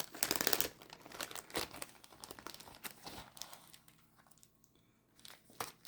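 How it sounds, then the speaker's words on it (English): A plastic bag holding small air compressor parts is handled: crisp crinkling bursts, loudest at the start, then scattered rustles and clicks, close and fairly quiet, with no talking. "let me get the bag here."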